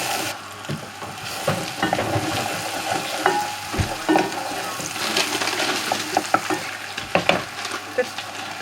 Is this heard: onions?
yes